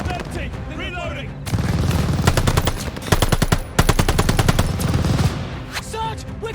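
Machine gun fire in the World War II shooter Call of Duty Vanguard, loud rapid bursts with dense regular rounds, broken by brief pauses, over a noisy battlefield with shouted voices.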